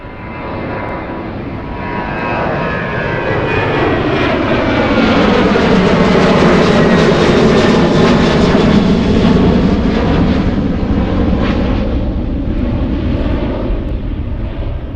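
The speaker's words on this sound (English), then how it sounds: "let's go for the Delta flight heading to LaGuardia" A Delta jet takes off at Miami International Airport bound for LaGuardia, its loud engine roar building to a powerful peak and then holding strong, with whining tones sweeping across the thunder and no voices.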